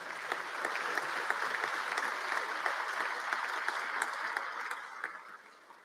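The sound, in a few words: audience applause at State of the State address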